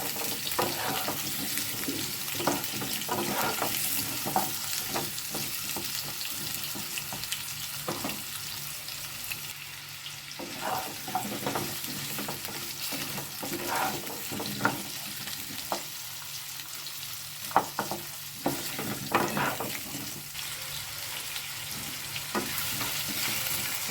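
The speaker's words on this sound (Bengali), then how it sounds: "আলুটা একটু নেড়ে নেব তেলের মধ্যে" Cut potatoes fry in hot oil while being turned with a spatula, giving a continuous close sizzle broken by repeated scraping and clattering stirs against the pan.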